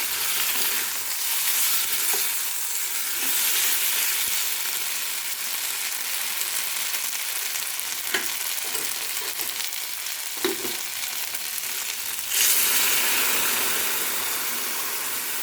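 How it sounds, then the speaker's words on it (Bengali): Hot water poured into spices frying in a pan for a potol, potato and fish-head curry, a broad hiss of oil and steam with clicks and a louder surge of sizzling near the end. "এই জলটা এখানে দিয়ে দেবো।"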